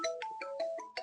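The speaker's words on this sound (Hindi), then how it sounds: "फोन आया किसी का" Phone ringtone sounding in a quiet room, a short repeating electronic melody of bright tones with a steady rhythm, fairly close and clear with no talk over it.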